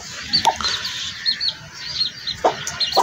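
Newly hatched chicks of a purbana bloodline, mostly black with one yellow, chirp in short high peeps scattered through the moment, with a few louder close calls over a soft background.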